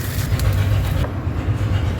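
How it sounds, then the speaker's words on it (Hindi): Borewell drilling at a neighbouring house outside a home in a residential area produces a loud, continuous heavy rumble with grinding texture that stays steady throughout, with no talking. "वो बाहर घर के बाहर किसी के घर पर बोरिंग हो रही है"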